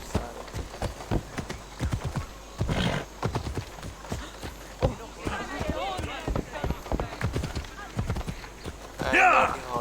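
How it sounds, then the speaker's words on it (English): Horse hooves walking in Assassin's Creed Odyssey, a steady clip-clop rhythm close by with occasional whinnies and snorts, mixed with game speech. "walking horse."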